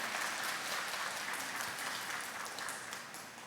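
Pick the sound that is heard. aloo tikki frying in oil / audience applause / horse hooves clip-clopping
audience applause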